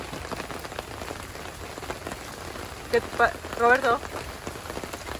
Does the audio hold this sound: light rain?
yes